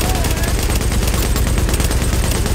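Dense, continuous gunfire from Tom Clancy's The Division video game, rapid shots layered into a steady loud barrage with no pauses across the whole stretch.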